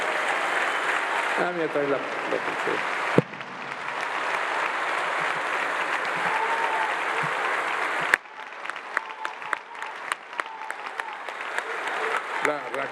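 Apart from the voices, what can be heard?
audience applause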